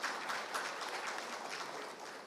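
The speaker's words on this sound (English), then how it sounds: "May we have a round of applause for the distinguished speakers" Conference audience gives a short round of applause for the distinguished speakers at a manufacturing and MSME conclave, dense even clapping from a hall, fairly faint.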